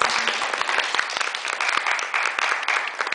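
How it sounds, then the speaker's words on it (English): Steady applause from a crowd, many hands clapping continuously at moderate loudness throughout. "Let's give her a round of applause."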